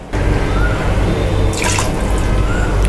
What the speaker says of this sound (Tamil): கொஞ்சமாக நம்ம தண்ணி விட்டுக்கலாம்.